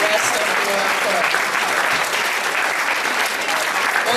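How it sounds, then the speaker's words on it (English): A crowd at a high school homecoming coronation claps continuously, dense and steady applause filling the whole stretch at a fairly loud level. "Let's give one more round of applause"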